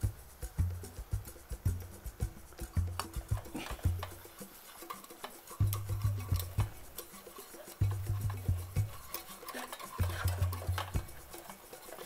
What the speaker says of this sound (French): So I'm doing a mix of coconut oil and flour, and it's called a roux.